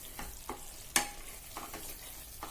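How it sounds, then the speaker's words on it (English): Onion masala for paneer do pyaza fries in oil over a low flame, giving a soft continuous sizzle with a few scattered pops and one sharper clink near the middle, and no voices. "this is cooking on low flame"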